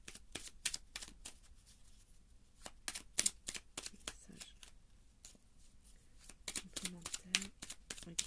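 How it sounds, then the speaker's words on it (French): A deck of oracle or tarot cards is shuffled by hand, producing a quick series of crisp riffling snaps and flicks at close range, some in rapid clusters, while someone speaks softly in French underneath. "J'ai envie de retirer une carte comme ça."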